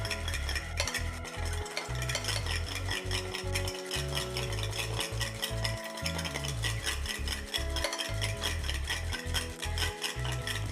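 Deviled egg yolk mixture being stirred and scraped in a bowl, a steady scraping rhythm over continuous music, no voices.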